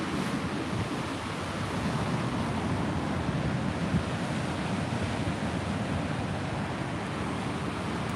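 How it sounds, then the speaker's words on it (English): Large ocean waves crash on the Northern California coast, a steady, dense roar of surf mixed with wind buffeting the microphone, with no pauses. "Seeing some pretty good sized waves kick up here"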